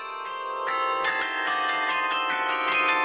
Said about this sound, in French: apprennent le carillon depuis 2 ans